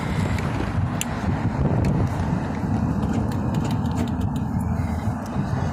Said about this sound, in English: We're downtown, so we got some traffic.